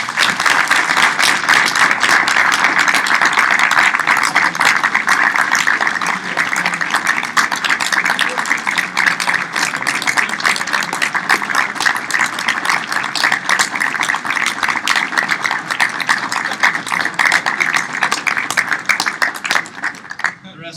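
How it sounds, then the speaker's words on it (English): A large audience at the 2012 national band directors convention in Asheville, North Carolina keeps up a loud, continuous round of applause for about twenty seconds. "let's give them a round of applause for sharing"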